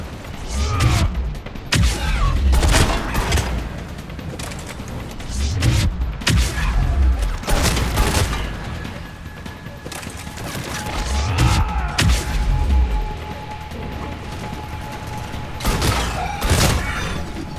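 Bursts of gunfire and thudding impacts erupt in waves during a Mass Effect 3 firefight, loud clusters separated by calmer stretches, with occasional mechanical clanks and voices speaking between the volleys.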